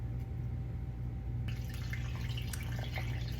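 Water is poured into a large bowl holding sourdough starter, a soft continuous trickle and splash that starts partway through over a steady low hum.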